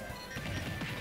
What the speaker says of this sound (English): Down smash Vermin. Smashes the ground.